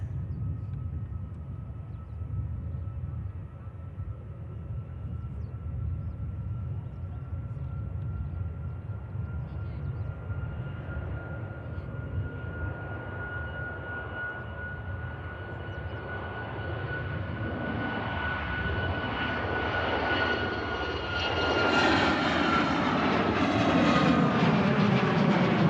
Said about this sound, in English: Another aircraft heading down to Tenerife South.